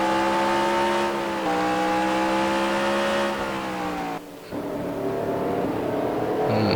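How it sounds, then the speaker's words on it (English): Race cars roar steadily around the short Martinsville oval, a loud continuous engine drone that shifts pitch as the cars hold their speed, briefly dips, then builds again. "Sean doing the nice thing, letting Troy go as well so that the two cars can continue the battle."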